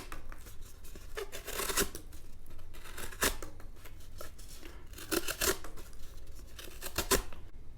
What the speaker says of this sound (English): Check some cardboard. Slice through that pretty easily.